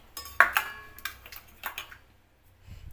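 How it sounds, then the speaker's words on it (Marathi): A spoon clinks and scrapes against a metal bowl while stirring a hot mixture of sabudana and finely grated jaggery for fasting ladus, giving a few sharp close taps and rattles followed by softer scraping. "आता आपण हे मिश्रण चमच्याने हलवूया"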